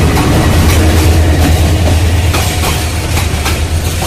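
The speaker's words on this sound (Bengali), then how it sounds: "আরেকটি ট্রেন চলে আসলো, ব্রহ্মপুত্র মনে হয় এটা, লোকোমোটিভ" A Bangladeshi Brahmaputra passenger train hauled by locomotive 2910 rolls past close by, loud and rumbling with a low engine drone and rhythmic clickety-clack of wheels over rail joints.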